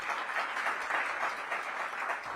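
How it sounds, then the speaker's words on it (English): Sustained audience applause at a Washington DC mayoral event on technical education, a dense steady wash of many hands clapping together, fairly distant and even in loudness throughout with no voices over it. "For a big round of applause."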